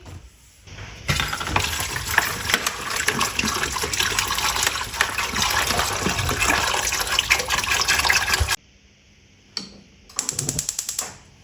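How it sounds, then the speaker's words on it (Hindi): Water gushes from a tap into a pot of soaked chickpeas, a loud, continuous pour lasting about eight seconds, followed after a pause by a few short bursts of running water. "इसमें मैं 2 लीटर पानी डाल दूंगी"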